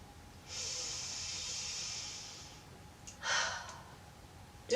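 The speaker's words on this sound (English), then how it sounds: "a deep breath starts with a deep exhale" A slow, deep conscious breath: a long, quiet exhale of airy hiss, followed after a pause by a shorter breath, close to the microphone in a calm room.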